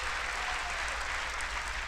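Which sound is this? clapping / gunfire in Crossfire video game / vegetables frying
clapping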